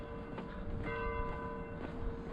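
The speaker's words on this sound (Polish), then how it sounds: "Dzwon mi bije, o matko." A church bell rings in San Marino on marathon day, its tones sustained and ringing with repeated strikes over a steady background wash, moderately loud and somewhat distant.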